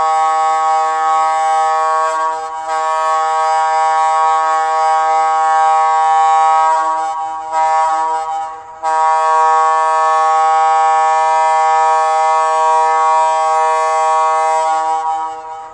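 A steady, loud air horn from an HO scale Southern Pacific GS-4 No. 4449 model steam locomotive blares with harmonic tones, dipping briefly twice before sounding on alone.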